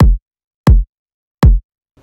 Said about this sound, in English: Our kick sounds like this.